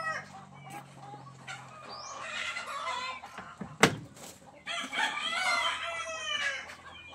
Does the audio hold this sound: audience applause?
no